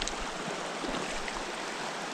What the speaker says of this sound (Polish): Taka piękna rzeka.